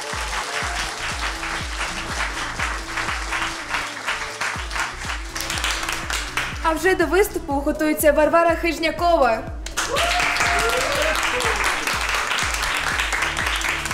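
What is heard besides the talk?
concert audience applause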